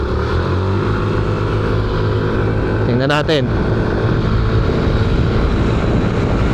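Steady droning of ADV 160 and NMAX scooter engines running together close by, with a brief rising whine in the middle and a voice speaking over the noise.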